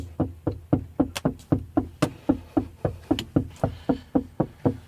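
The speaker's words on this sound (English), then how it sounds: "He been knocking for about 10 minutes." Repeated knocking by a police officer on a car window, a steady run of roughly twenty close, sharp raps at an even brisk rhythm with no talk over them.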